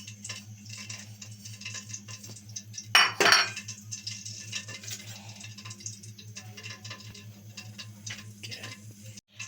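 Chicken is tossed with crushed chilies, oregano, garlic powder and black pepper in a bowl, giving soft wet patter and light clinks close by, with one brief sharp clatter early on and a low steady hum underneath.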